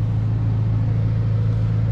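A 2021 Ferrari Roma, its twin-turbo V8 making 612 horsepower, rolls through City Walk in Dubai at night, giving an even, unbroken low hum and rumble from within the car, with no voices.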